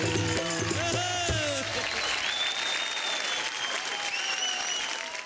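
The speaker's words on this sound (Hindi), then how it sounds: "एक बार जोरदार तालियां सर के लिए" Loud, dense applause from the audience of a folk music broadcast greets a guest, with musical tones fading out over the first two seconds and a few whistles rising above the sustained clapping.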